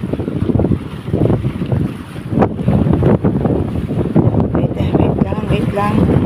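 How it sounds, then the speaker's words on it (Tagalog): Strong gusts buffet the microphone at a fishing spot by the water, roaring and rumbling continuously while people talk under the noise. "Malakas masyadong hangin."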